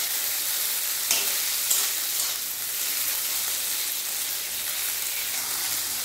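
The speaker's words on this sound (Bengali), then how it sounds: "এর মধ্যে টমেটো দিয়ে দিলাম।" Tomatoes and green peas fry in hot oil with whole cumin, giving a continuous bright sizzle close by, with a couple of brief sharp crackles from stirring in the pan.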